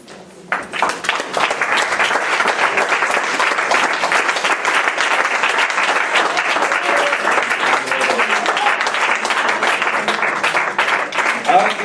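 A church congregation breaks into loud, sustained applause and cheering in praise of Jesus, dense clapping running steadily for about twelve seconds with voices mixed into the crowd noise.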